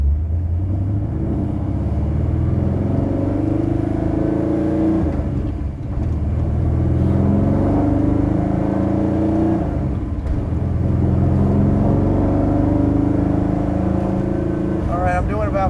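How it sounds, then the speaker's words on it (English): A car pulls away in first gear and accelerates hard. The engine drone is loud and close, running steadily for about fifteen seconds with a brief dip partway through. "Clutch is in. First gear, off we go."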